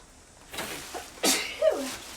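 A sneeze caused by a dust allergy while cleaning out a hoard of beauty products, heard as a sharp nearby burst in a quiet room, with a smaller sound just before it.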